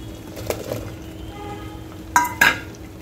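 Drumstick pods tossed into a pan of soft cooked tomatoes and sautéed, a low steady sizzle with a few stirring scrapes and two sharp metallic clinks of a spoon against the pan near the end.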